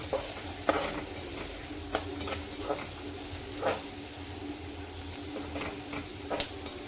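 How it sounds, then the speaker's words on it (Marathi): Onion frying in a pan for poha, a low crackling sizzle punctuated by irregular scraping strokes of a spatula stirring it, close and moderately quiet, with no voice. "अजून याला 2-3 मिनिटं छानसा लाल होईपर्यंत भाजून घ्यायचा"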